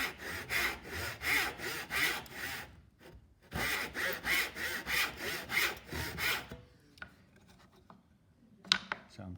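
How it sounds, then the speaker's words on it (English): A tenon saw cuts wood along a marked line for a double rebate joint in regular rhythmic strokes, about a dozen rasping passes in two runs separated by a short pause, then quieter small knocks. "we use our tenon saw, we'll cut right alongside our line we've marked there"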